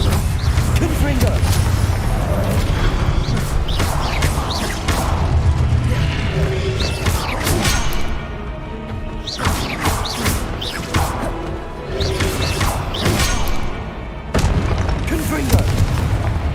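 Repeated booming blasts from the Confringo spell in Hogwarts Legacy, heavy explosions landing every second or two over dense combat noise, with a short lull near the end before the blasts resume.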